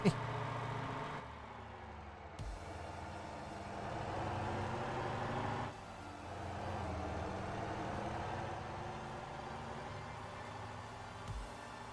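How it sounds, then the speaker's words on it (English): A garbage truck drives in the Motortown game, its steady engine drone running throughout with a few shifts in pitch and a brief air-brake hiss, under faint background sound. "I feel like there should be a larger garbage truck than this."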